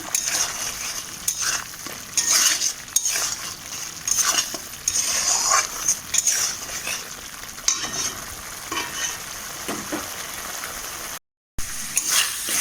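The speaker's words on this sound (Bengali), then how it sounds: "মশলা কিন্তু দেখো মোটামুটি আমার কষানো হয়ে গেছে" Spice masala for a Bengali crab curry is stirred and sautéed in a pan. Frequent scrapes and clinks of a spatula sound over a low sizzle, broken by a brief silent gap near the end, with no talking.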